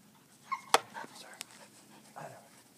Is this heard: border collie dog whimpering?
yes